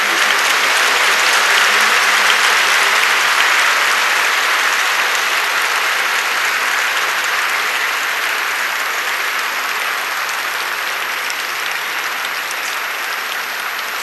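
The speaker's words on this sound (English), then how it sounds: "Yes, you may clap as loudly as possible." A large audience at a spiritual gathering claps loudly as first-time attendees stand, a thick, sustained roar of hands lasting the whole stretch and easing off only slightly near the end.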